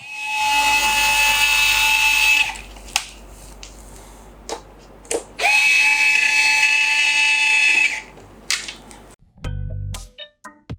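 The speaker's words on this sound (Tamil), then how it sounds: "ஸோ ஓப்பன் பண்ணுறதுக்கு பாஷோட எலக்ட்ரிக்கல் ஸ்க்ரூ டிரைவர் இருக்குது நம்மக்கிட்ட." A Bosch electric screwdriver undoing screws on an external hard drive casing, whining in two sustained high-pitched bursts separated by clicks and brief taps, ending with handling clatter.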